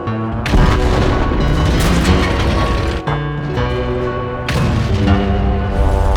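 Tank cannon fire in the World of Tanks PC game: several loud, booming blasts over a rumbling, continuous battle background with mechanical clatter.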